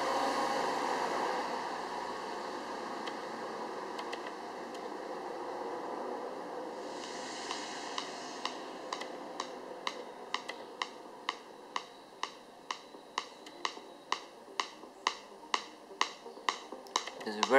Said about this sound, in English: Let me quickly go ahead and show you how loud the speaker can get.